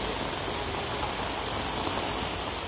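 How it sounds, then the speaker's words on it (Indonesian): Heavy rain pours down steadily in a dense, unbroken hiss, loud and close, with no voices. "Hujannya semakin deras, Toro."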